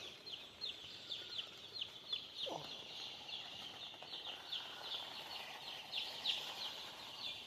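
Sonali chicks in a brooding shed under a lit hover give a steady chorus of high, rapid peeping calls that keep overlapping throughout, fairly close, with no talking.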